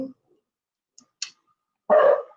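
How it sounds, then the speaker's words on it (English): A pet dog lets out a single loud bark near a microphone during an online geography and geology Q&A session, preceded by a few faint clicks and otherwise quiet. "Sorry about my dog."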